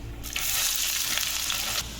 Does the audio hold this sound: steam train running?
no